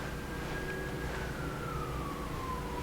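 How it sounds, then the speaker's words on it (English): A single siren from a Tiger King episode wails faintly in the distance, its tone sliding slowly downward over a few seconds against steady background noise, with no voices. "More freaking sirens, are you kidding me?"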